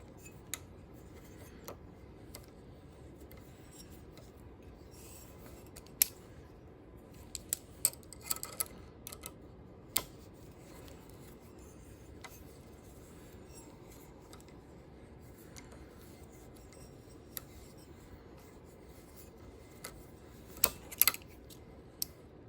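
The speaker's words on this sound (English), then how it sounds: "we'll unscrew this nut and see what's underneath" A spanner works a dirty nut loose on a metal live center in a quiet workshop, producing faint scraping and a series of sharp metallic clicks and ticks spread across the span.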